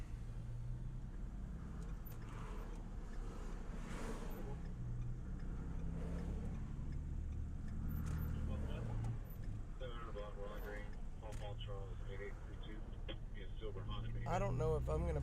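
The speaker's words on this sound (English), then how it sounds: "We are stuck in a lot of traffic." Road traffic in a jam, with a low, steady rumble of idling and slowly moving car engines throughout, and people talking over the traffic noise.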